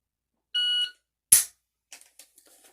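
An electronic shot timer gives a single steady start beep during a timed dry fire CQB drill at home, followed by a sharp close snap and a few faint clicks.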